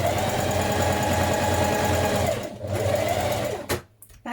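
A sewing machine stitches a dress seam with pleats, a steady fast whirring run held for over two seconds, then a brief pause and a second run that stops abruptly, close and loud.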